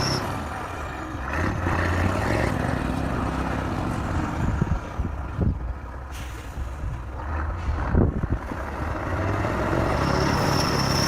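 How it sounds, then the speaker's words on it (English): A heavy tractor pushes and breaks apart packed, icy snow with its blade on a frozen winter track. Its engine drones low and steady, broken by sharp scraping and crunching bursts. "In areas where the snow is especially packed or icy, the tractor compresses and breaks it apart before pushing it."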